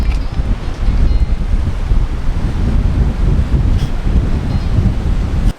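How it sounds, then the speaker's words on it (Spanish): Strong wind roars and buffets the microphone in loud, continuous rough gusts outdoors, with no voices. "¡Qué viento!"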